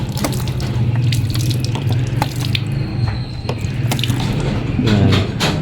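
Water splashes and trickles steadily over motorcycle paint to rinse away spilled brake fluid during a front brake lever fix on a Suzuki Raider FI 150, a continuous close pour with a few drips.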